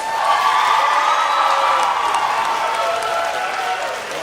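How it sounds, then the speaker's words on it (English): A crowd at a high school graduation for the class of 2016 gives a round of applause mixed with cheering and whoops, loud and continuous throughout. "if we can give the class of 2016 another round of applause"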